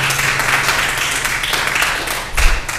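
An audience at a city council meeting claps in a steady, moderately loud wash of applause that carries on for the whole stretch and swells slightly near the end.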